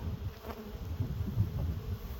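Steady low buzzing of honey bees, a dense hum that stays fairly even and close throughout with no voices.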